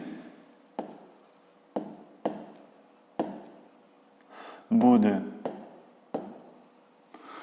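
A pen scratches on paper while a math exercise is written out by hand, with short separate strokes in an irregular rhythm, close and fairly quiet, and a brief louder scrape near the end.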